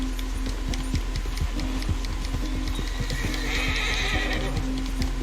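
A horse whinnies in the Red Dead Redemption 2 western game world, a single neigh rising over steady hoof clip-clop and a low hum, with no talk.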